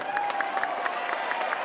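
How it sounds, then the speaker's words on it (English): Crowd applause for a substitute striker entering a professional soccer match between Phoenix Rising FC and Charleston Battery, a steady wash of clapping with scattered cheers filling the stadium, continuous and fairly loud throughout. "Good applause for Remy Cabral."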